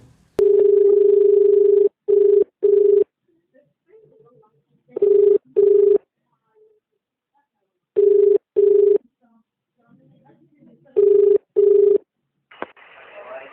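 A recorded phone call's ringback tone sounds in repeated double bursts, loud and clear with silent gaps between, before a burst of line noise at the end.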